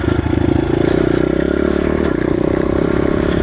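A Honda XR100 pit bike engine revs close by, loud and buzzing with rapid rhythmic pulsing and some clatter, running continuously without talk.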